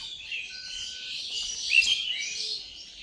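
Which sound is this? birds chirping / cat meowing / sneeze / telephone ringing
birds chirping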